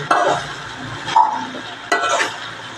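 Okra stir-fry (vendakka thoran) stirred in a pan: three distinct scraping, rustling strokes, close and fairly loud, each fading between turns.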